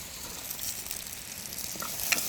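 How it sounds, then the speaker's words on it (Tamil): Chopped onions and green chillies frying in hot oil in a pan, giving a close, steady crackling sizzle with a brief sharper pop near the end, and no talking. "அப்படியே நாங்கள் வெட்டி வச்சிருக்கிற வெங்காயம் பச்சை மிளகாயை சேர்த்துக்கொள்வோம்."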